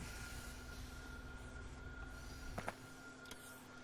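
Trains collide in the video game Factorio: a steady rolling rumble of rail traffic runs throughout, broken by a sharp, close impact crunch about two-thirds of the way in, then fainter clanks.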